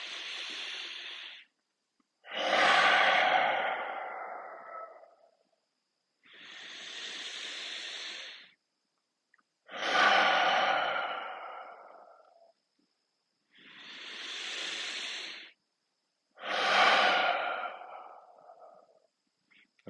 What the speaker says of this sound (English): in through our nose and out through our mouth and get rid of all that stale air